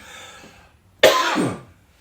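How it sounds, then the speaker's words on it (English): A single sharp cough bursts out close to the mic, followed by a brief rough rasp, then quiet. "hold on, going to cough again"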